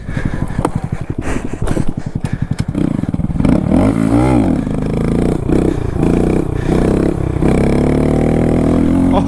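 A Honda Grom motorcycle stunting on the street, loud and close, with choppy rapid engine pulses giving way to sustained high revving and rising and falling wails as the throttle is worked.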